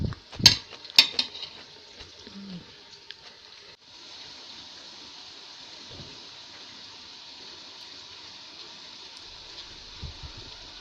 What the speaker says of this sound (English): I'm having onions fried with potato cubes in a bit of oil